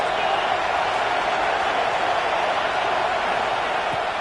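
Stadium crowd at a college football game roaring loudly and continuously, a dense, steady wall of noise that never lets up.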